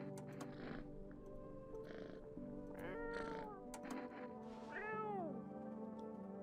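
A cat in the video game No, I'm Not a Human gives a string of drawn-out meows, several in a row with the last one longest and rising then falling, fairly close and clear with no talk over them.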